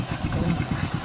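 A motorcycle engine runs close by with a steady, rhythmic low putter, heard alone without talk.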